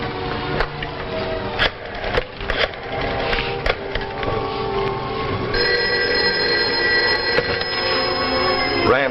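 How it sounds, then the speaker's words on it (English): An old telephone bell ringing in a vintage television drama, loud and continuous alongside wooden knocks and clatter, with no speech. "I'm going to call you on this other phone"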